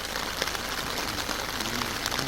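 Rain falls steadily outdoors on the road at Hoengseong, a dense, even hiss that fills the whole moment with no pauses and no voices.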